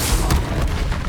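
A Confringo spell blast in Hogwarts Legacy lands as a short, heavy booming burst with a deep rumble that fades over about a second, loud and up front.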